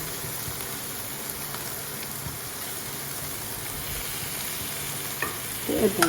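Tinda (apple gourd) tipped into masala frying in ghee, giving a steady, dense sizzle throughout with a few louder stirring clatters near the end.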